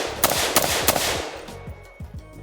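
Rapid shots from a Daniel Defense M4A1 RIII rifle with a 14.5-inch barrel, firing cheap steel-cased ammunition, ring out in a quick string of three loud cracks, followed by quieter clinking and rattling.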